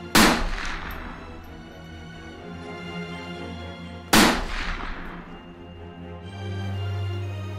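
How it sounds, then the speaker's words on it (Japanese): Two gunshots fired in succession inside a room of a hunting lodge, each a sharp loud crack with a long reverberant tail, spaced about four seconds apart, with no talk. "ルドルフの部屋で突如続けて鳴り響いた2つの銃声に飛び起きました"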